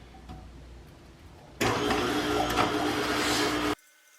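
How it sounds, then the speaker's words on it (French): A food processor fitted with a grating disc shreds cleaned carrots, its motor starting abruptly into a loud, steady whirring grind that holds for about two seconds before cutting off into quiet. "Ensuite, je vais utiliser mon mixeur pour les râper."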